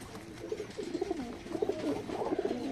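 Teddy pigeons at a Bangladeshi pigeon market cooing in soft, repeated throaty calls, close and fairly faint, with no talk.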